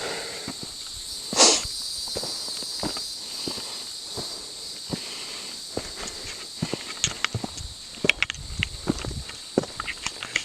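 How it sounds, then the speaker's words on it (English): Footsteps crunch along a dry hiking trail, with one louder crackling crunch of a dry leaf underfoot standing out early, followed by a run of softer, irregular steps nearby. "I stepped on that loud ass leaf"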